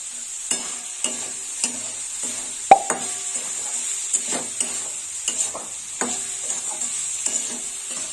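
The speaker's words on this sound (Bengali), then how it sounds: "এইভাবে ধিমে আঁচে ভেজে নিতে হবে।" Jukti flowers frying with potato and brinjal in a pan over low heat, a steady soft sizzle broken by repeated scrapes and taps of a spatula stirring at close range.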